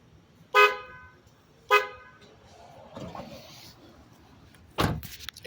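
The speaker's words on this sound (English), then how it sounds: "Okay, so here it is, the horn." Two loud, short blasts sound from an upgraded aftermarket car horn on a Honda Civic, heard close up. A car door thuds shortly afterward.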